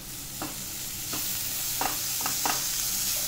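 Spine gourd fries in a pan with a steady sizzle, and a spoon stirs it in several separate scrapes as tomato goes in. No talking.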